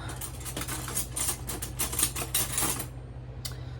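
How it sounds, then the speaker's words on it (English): Metal cutlery clinking in a home kitchen as a spoon is fetched from a drawer, a quick cluster of bright rattling taps for a few seconds followed by near quiet and one last faint clink. "I need to get a spoon"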